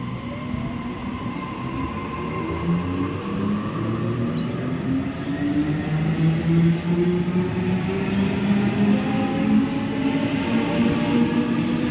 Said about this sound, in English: Now A38 is departing for a service to the City Circle.